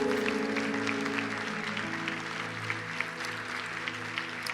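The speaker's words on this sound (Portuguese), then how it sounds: "Vamos aplaudir o Senhor" A church congregation applauds at a worship service, steady clapping that fades somewhat over a sustained organ or keyboard chord, with a few sharp claps near the end.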